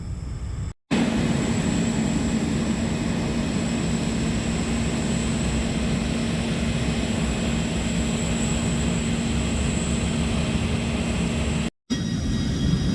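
An airplane sits at Anchorage airport in snow with a steady loud engine drone and rumble running nearly unbroken, cut by two very brief dropouts.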